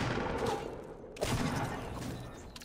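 Bursts of gunfire in the Fortnite video game crackle at moderate volume, with a sharp cluster of shots in the middle and a steady rattle around it.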